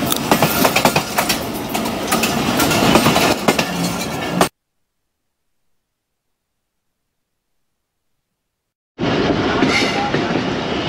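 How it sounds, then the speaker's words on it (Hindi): A train, the Awam Express in Pakistan, rumbles along the rails with steady rattling and clatter as it pulls out of Dina station, broken by a few seconds of silence before the rolling noise resumes. "और ट्रेन हमारी खिसकना शुरू हो गई है।"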